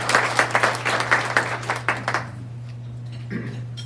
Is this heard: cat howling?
no